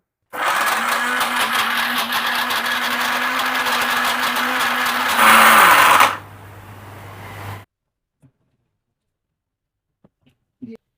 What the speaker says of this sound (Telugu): నేను అరకిలో చూపిస్తున్నా కాబట్టి మిక్సీలో పడుతున్నాను